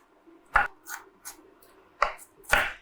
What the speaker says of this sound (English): I chop the onions pretty fine because I want to make sure that you don't get clumps of onion.